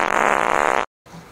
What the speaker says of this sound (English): Just farts everywhere.